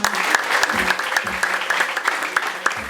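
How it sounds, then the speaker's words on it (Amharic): Congregation clapping during an Ethiopian church prophecy service, a steady dense patter of hands filling the room with sharper individual claps poking through, continuous and fairly loud throughout. "እንደገና አጨብጭባ።"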